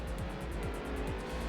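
Race car engine heard from on board at Silverstone in Project Cars 2, a loud steady drone with rhythmic rising revs and gear changes, and faint tire squeal throughout.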